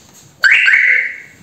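An alarm signal speaker on a homemade mini tractor electrical system gives a single sudden loud electronic tone that starts sharply, holds steady for about half a second, then fades, heard close in a quiet setting.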